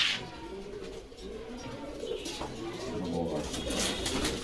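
White Lotan pigeons coo at a busy pigeon market in Bogura, their soft rolling calls steady beneath a crowded din of bargaining voices.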